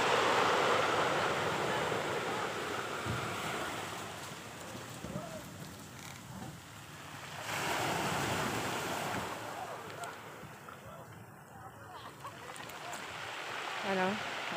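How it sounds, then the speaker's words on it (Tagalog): Large storm waves surge and crash along a typhoon-hit shore, a continuous heavy roar with wind buffeting the microphone, swelling and easing in loudness, with faint voices underneath. "Malalaki na kasi yung alon."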